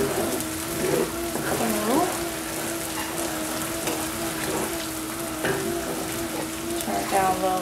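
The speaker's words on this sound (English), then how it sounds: "you have to keep stirring it or else it'll bubble and it'll pop" Crab noodle soup bubbling and sizzling in a pot while it is stirred, with steady frying-like crackle, soft scraping strokes and a low hum, at moderate loudness.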